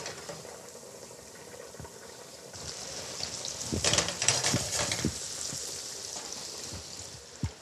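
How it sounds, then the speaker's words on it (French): Butter melting in a frying pan, giving a soft steady sizzle that swells into louder crackling bubbling partway through and then settles back to a gentle hiss, with occasional small pops. "je fais fondre le beurre sans qu'il prenne couleur pour l'instant"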